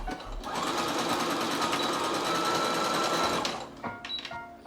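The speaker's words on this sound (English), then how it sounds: "I'm just gonna secure the elastic with a zigzag stitch." A sewing machine runs steadily in a zigzag stitch, securing elastic onto a shirred summer dress; the close, continuous whirring lasts a few seconds and then stops, leaving small handling noises.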